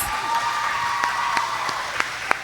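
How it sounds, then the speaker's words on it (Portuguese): Applause from a church gathering during an interview with missionaries, a steady wash of crowd clapping with a few sharper individual claps standing out. "Palmas!"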